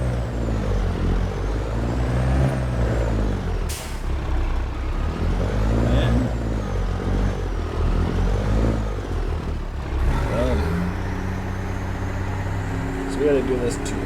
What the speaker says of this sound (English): Big old freaking semi truck I found currently.